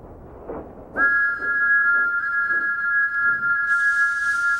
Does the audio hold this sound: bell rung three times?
no